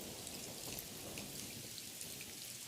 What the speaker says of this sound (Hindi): आज सुबह से ही जोरों की बारिश हो रही थी